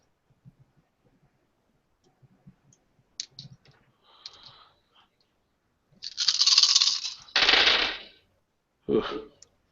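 Dice for a Werewolf: The Dark Ages tabletop role-playing session clatter and rattle across a surface in two loud, close bursts, with a sharper final tumble after a pause, preceded by faint scattered clicks.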